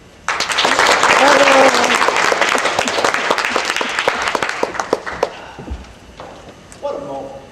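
Close, loud applause from a crowd greeting a speaker on stage fills the room, then thins into scattered claps and fades as a voice begins to speak.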